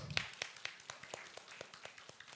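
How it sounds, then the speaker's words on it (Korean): A small group claps faintly and somewhat unevenly at a church youth Sunday service, with quick repeated claps continuing steadily throughout. "야, 박수."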